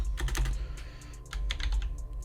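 Quick clusters of keystrokes as PHP code is typed on a computer keyboard, close and crisp, in two bursts with a brief pause between, over a low steady hum.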